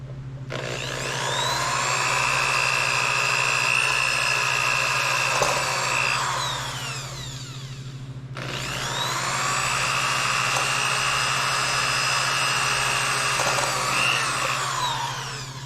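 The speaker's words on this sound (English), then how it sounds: "I'm going to drill some holes." A power drill bores holes into a wooden board for a 1/64 scale hillclimb track, two long loud whining runs of about seven seconds each, separated by a brief pause, under a steady low hum.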